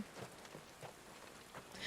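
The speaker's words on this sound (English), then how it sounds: "And it's raining as well" Soft, steady rain falls in the video game Final Fantasy XVI, a faint and even patter of drops on surfaces with no voices over it.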